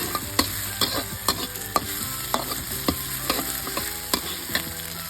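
Curry paste stir-fried in a pan for a fish-and-eggplant dish sizzles steadily while a spatula scrapes and taps the pan in a regular rhythm, loud and close, with no talking.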